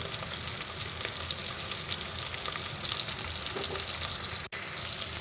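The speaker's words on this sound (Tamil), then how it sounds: "ஒரு 5-6 பூண்டு போட்டு நல்லா வதக்கிக்கலாம்." Five or six garlic cloves sautéing in a hot pan with green chillies and curry leaves, a steady close sizzle with faint stirring scrapes throughout and one brief break near the end.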